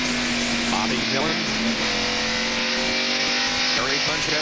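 NASCAR Cup stock cars racing on the North Wilkesboro short track in 1992, a dense continuous roar of V8 engines under a commentator's voice.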